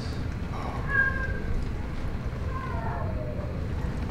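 A cat meows in drawn-out, rising-and-falling calls, one near the start and another a moment later, over a steady windy rumble in a house where a dog is also present.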